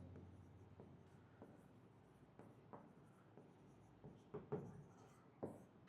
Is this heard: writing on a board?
yes